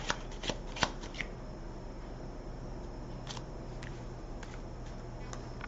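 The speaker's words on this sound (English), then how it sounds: "and then I started shuffling" Tarot cards are shuffled close by, with a steady riffling hiss and a few sharper snaps and taps, alone and fairly quiet.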